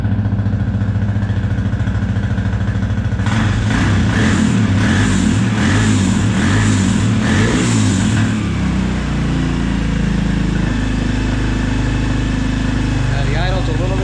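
Small engine of a 2004 Suzuki LTZ250 ATV idling with a freshly rebuilt carburetor, a steady low running hum that grows busier and rougher midway before settling back to an even idle.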